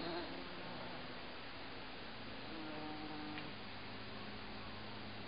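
Low, steady buzzing of worker bees in a garden hums through a quiet outdoor background, faint and continuous with no talking.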